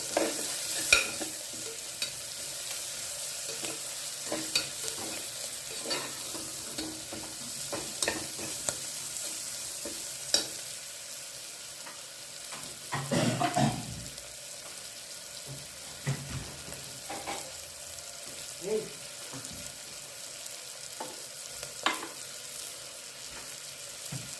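Coconut rice ingredients sizzle gently in a pan while a utensil scrapes and clicks against the metal in irregular strokes. The stirring grows busier in places, with no one talking.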